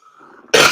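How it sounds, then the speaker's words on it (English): A single loud, close cough bursts out after a moment of quiet low murmuring. "Yeah, I'm gonna cough."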